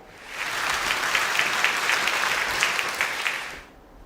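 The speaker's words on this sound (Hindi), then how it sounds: "कंट्रोल पैनल प्लीज़ पार्टिसिपेंट ए के लिए तालियां बजाई जाएं।" A studio audience applauds a quiz contestant on a Ramadan knowledge quiz show, with steady, dense clapping that swells in quickly, holds for about three seconds and fades out.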